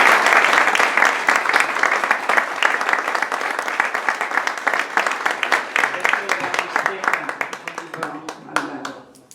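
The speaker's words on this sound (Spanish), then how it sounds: "Le damos otro aplauso." Warm applause from an audience at a poetry evening and book presentation, dense clapping that continues steadily and thins out toward the end, close and fairly loud.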